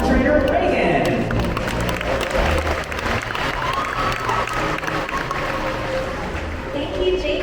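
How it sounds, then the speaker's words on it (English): A dolphin show audience at the Georgia Aquarium applauds for a new dolphin trainer, clapping spread through a large crowd with crowd noise and an amplified voice talking over it throughout. "And now we're going to give a bigger round of applause for our newest dolphin trainer"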